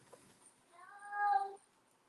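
A cat gives a single clear, drawn-out meow close by in a quiet indoor setting, rising and fading over about a second, with faint rustling just before it.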